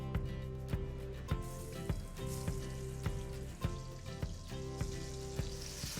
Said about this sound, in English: I'll let this set aside while I cook up my onions and other veggies